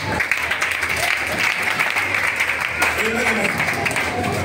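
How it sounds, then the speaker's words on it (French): A church congregation applauding during a sermon, a dense wash of clapping from a crowd that fills the room, with voices calling out and talking over it throughout. "Oh, acclame Dieu pour ça."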